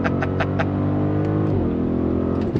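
A 2025 Audi SQ7 engine revs up hard, its pitch climbing steadily, then briefly drops as it shifts before pulling again, loud and close.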